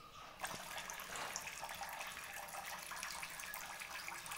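Water gushes steadily out of a bottle in a classroom-style artificial rain demonstration, a continuous hissing pour that starts abruptly after a brief quiet moment and runs on at an even level.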